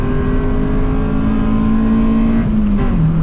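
Naturally aspirated car engine revving hard while being driven fast, a steady loud droning pitch that climbs, then drops with shifts near the end, heard close from inside the cabin with no talk over it.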